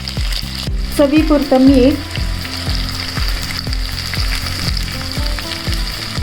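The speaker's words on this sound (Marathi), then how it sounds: "व्यवस्थित फ्राय करून घ्यायचे आहे।" A raw mango mixture fries in a pan with a loud, continuous sizzle; a voice speaks briefly early on, and a faint, regular ticking pulse runs underneath.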